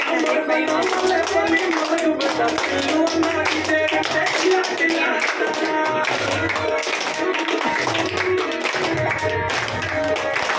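A group of people clap hands at a celebration, steady rhythmic claps over loud music with a thumping beat, as voices chat in the background.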